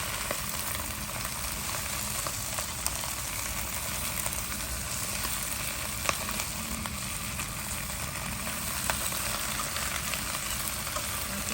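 Baby bok choy stir-fries in oil and garlic, a steady quiet sizzle with occasional soft clicks and scrapes as the vegetables are tossed in the pan.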